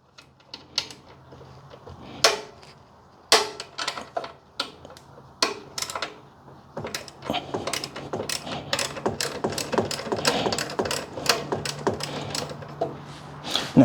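A socket ratchet clicks close by while loosening a bolt on a car alternator, starting in scattered short runs and building into fast, dense bursts of clicking, with no talking.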